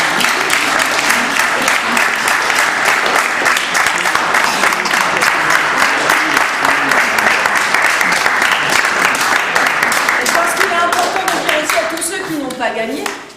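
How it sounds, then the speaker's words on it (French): An audience at a prize-giving ceremony bursts into sustained, dense applause, loud and continuous for several seconds before tapering off, with voices chattering underneath. "Je crois que de nouveau les applaudir."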